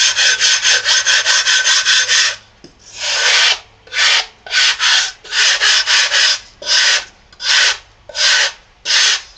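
Tooling board for a Perky model fuselage sanded by hand in steady rasping strokes, a fast run of short scrubs followed by longer, evenly spaced passes, close and clear with no talking.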